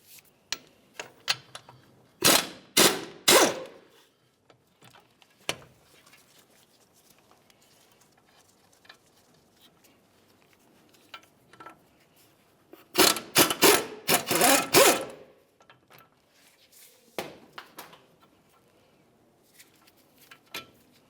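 Brake caliper bolts (21mm) being loosened and removed on a 2005-2010 Dodge Dakota: a rapid impact gun or ratchet buzzes in short bursts, separated by quiet gaps and faint tool clinks.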